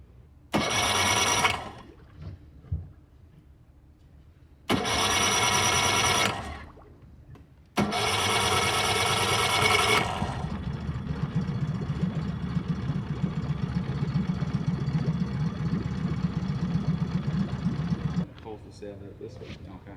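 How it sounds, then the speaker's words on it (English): Bursts of loud pull-start revving, then a small outboard motor on a sailboat catches and runs steadily with a low throbbing hum for several seconds before cutting out. "the next step is to get my outboard motor attached and running."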